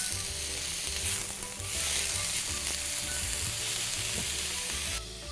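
Shredded sweet potato ribbons fry in a pan with butter, giving a steady, close sizzle that runs the whole time with faint stirring scrapes and no talking.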